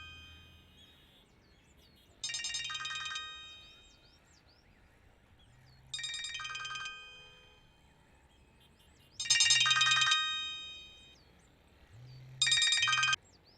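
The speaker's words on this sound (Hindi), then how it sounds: "तुम्हारा फोन बज रहा है।" A mobile phone ringtone rings in four separate bursts of a bright, chiming electronic tune, each lasting about a second, spaced a few seconds apart, fairly close in a quiet room with no voices.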